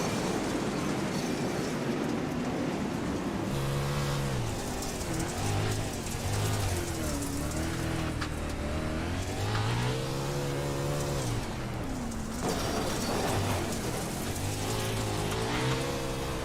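410 sprint cars roar around a dirt oval in a National Auto Racing Club race, engines revving and shifting pitch as they pass, loud and continuous throughout.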